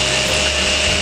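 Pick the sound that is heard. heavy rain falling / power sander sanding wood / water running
power sander sanding wood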